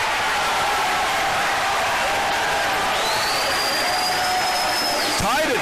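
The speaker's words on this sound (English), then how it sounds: "the crowd comes alive" A volleyball crowd in a college gym cheers and applauds with the score tied late in a set, producing a steady, loud roar that fills the whole moment.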